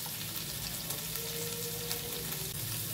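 Onions go into a hot pan with chopped garlic, ginger and chili while cooking a hotel-style chilli omelette, and they fry with a steady, soft sizzling crackle throughout.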